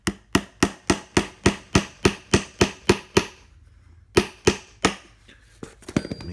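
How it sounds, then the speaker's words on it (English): A hammer drives a rusted nail into wood for a carpenter bee trap: eleven sharp, evenly spaced blows, a pause, then three more, loud and close with faint handling noise after. "And just hammer it in."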